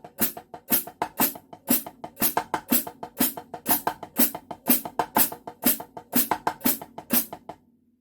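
A drummer plays a pattern of eighth-note triplets, producing a steady stream of crisp strikes in a lilting three-beat grouping that rings out alone and close, then stops cleanly.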